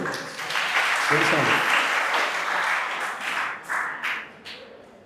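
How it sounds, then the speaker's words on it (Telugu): Audience applause at a felicitation ceremony at Matrusri Oriental College in Jillellamudi, a sustained clapping crowd that swells, then thins out into scattered claps toward the end. "చప్పట్లు."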